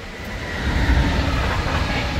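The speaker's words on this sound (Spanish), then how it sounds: "Otro tren." A passenger train passes close by on the line toward Prague, a steady broadband rumble and rolling clatter that swells slightly midway and stays loud throughout.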